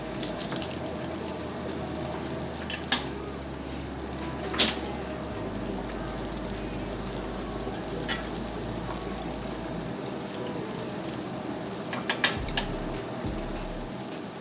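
Melted butter for pork chops sizzles in a pan with a steady, dense crackling hiss, a few louder pops and taps rising now and then, close by with a low hum underneath.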